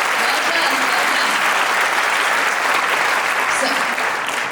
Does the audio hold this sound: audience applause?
yes